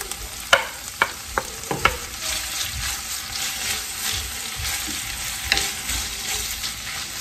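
Meat sizzles in a frying pan while a frittata is cooked, with a few sharp utensil clicks and stirring scrapes near the start over a steady close hiss.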